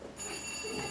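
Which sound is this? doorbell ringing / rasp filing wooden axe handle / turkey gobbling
doorbell ringing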